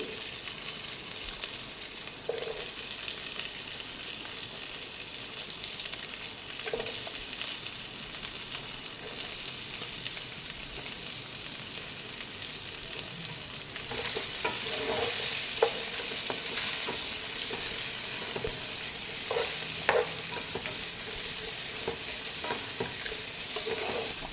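Green chillies and onions frying in a pan for paneer dum biryani, a steady hissing sizzle that grows louder midway, with intermittent scraping stirs.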